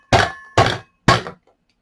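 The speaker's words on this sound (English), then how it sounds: "You'll need something hard to bang on, and I've just got a plate here, a metal plate here" A toy strikes a metal plate three times in quick succession, each a sharp, loud clanking thunk with a brief ringing decay, close up and with no talk.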